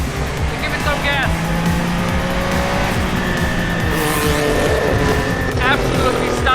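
A Group C prototype race car engine accelerates hard at a reunion meeting in Leipzig, loud and continuous with rising engine tones and a brief tire squeal, while people talk over it.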